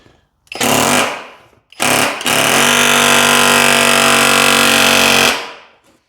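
A Skil auto hammer drives a fence staple on a welding table, giving a loud, harsh rapid-fire hammering buzz in a short first burst, then a brief pause and a longer sustained burst of about three seconds, very close with no talking.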